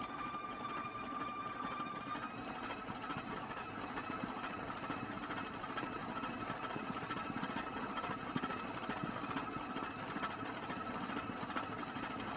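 An electric mixer whirs on brownie batter made with brown sugar, a low, even motor hum that runs continuously at a steady pitch with no voices over it.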